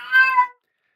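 A pet cat gives a single short, clear meow close by, rising and then fading out within half a second, followed by silence.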